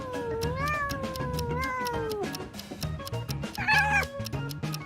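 A cat meows in long, wavering, caterwauling calls over a steady backdrop of music, with a sharper cry near the end.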